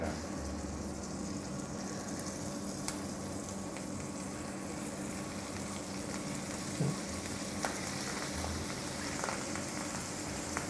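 Salted and peppered grouse breasts sizzle gently in butter in a pan, a steady soft crackle and hiss with scattered small pops, fairly quiet and continuous, with no talking.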